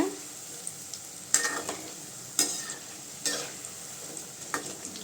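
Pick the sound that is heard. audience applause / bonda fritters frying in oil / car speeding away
bonda fritters frying in oil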